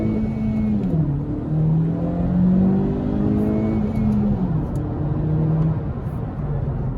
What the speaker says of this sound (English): you'll see going from 0 to 100 kilometers an hour, staying within the speed limit